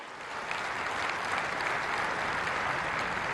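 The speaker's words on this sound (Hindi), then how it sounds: "एक बार जोरदार तालियां हो जाएं।" Steady, dense applause from a large crowd at a National Technology Day event, sustained and even throughout at moderate distance.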